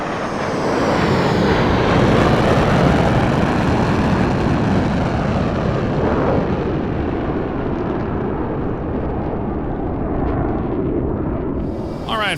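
A F/A-18E Super Hornet jet roars past in a straight level airshow pass in Microsoft Flight Simulator, a loud sustained engine rumble and hiss that swells and slowly fades, with the pitch falling as it moves away.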